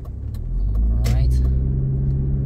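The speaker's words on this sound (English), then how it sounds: "this guy is making a legal U-turn" A car passes nearby on a suburban road in Hempstead, New York while making a legal U-turn, its steady low engine rumble and tire noise swelling in the middle and holding to the end.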